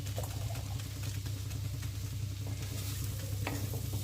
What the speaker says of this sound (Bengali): অল্প করে করে মেশাবো আর অল্প করে করে নাড়তে থাকবো